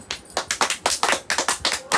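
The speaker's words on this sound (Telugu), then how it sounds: "ప్రైస్ కి మళ్ళీ క్లాప్స్ కొట్టుకోవచ్చు" A group of people clap their hands together in a steady, rapid run of sharp claps, close and fairly loud, with no voices over them.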